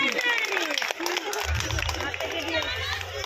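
Audience applause at a village Itu puja gathering in Bhagabatipur, Howrah, where scattered clapping and crowd chatter mix with talk and a low rumble, fairly close and steady.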